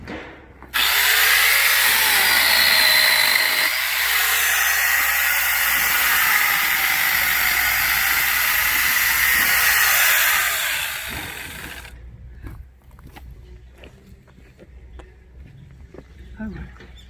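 An electric chainsaw cuts firewood outdoors, a loud steady whining buzz held for about ten seconds before it stops abruptly, leaving faint clatter and quiet voices afterward.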